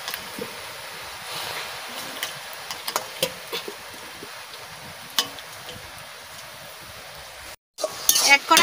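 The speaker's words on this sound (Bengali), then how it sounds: "আমি এনে কচু শাকটা একটু সেদ্ধ করে নেব" Taro leaves boil in a wok, giving a steady, fairly quiet bubbling hiss with scattered light clinks and stirring knocks. The sound cuts out briefly near the end, then a louder burst follows.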